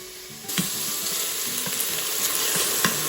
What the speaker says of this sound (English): Adding the lentils.